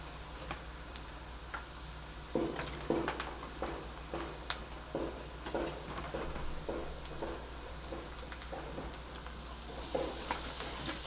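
Sliced onion and grated coconut roast in a hot pan, giving a steady soft crackle and sizzle with scattered sharper pops over a low, constant background hum; nobody speaks.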